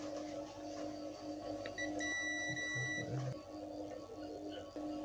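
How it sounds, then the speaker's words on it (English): A multimeter in continuity buzzer mode gives a couple of short, thin electronic beeps over a steady hum while stepper motor wires on an Arduino CNC shield are checked. "Keep your multimeter buzzer mode."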